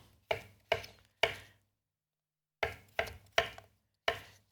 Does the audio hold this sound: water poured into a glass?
no